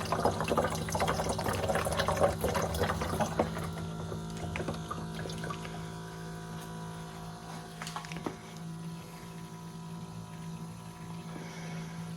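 A TD1200 hydrogen gas generator drains water as its pump runs, giving a steady mechanical hum with a trickling, gushing water sound that is busier at first and then settles into a constant drone.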